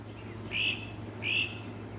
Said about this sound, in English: And the birds are singing here.